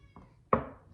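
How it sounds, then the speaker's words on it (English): A single short meow from a cat, loud and close, rising sharply and fading over half a second after a faint earlier sound, with no talk. "Goose, you're gonna hear the cat."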